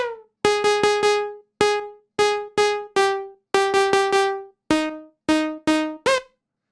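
Dry, plucky sawtooth synth notes in a short, bright rhythmic phrase, each note snapping in and decaying quickly, with no other sounds.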